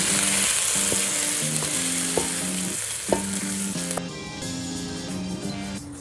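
Soy- and oyster-sauce-marinated beef stir-frying in a hot wok for Cantonese beef ginger kuey teow, a loud, steady sizzle with occasional scrapes and clinks of the spatula against the metal.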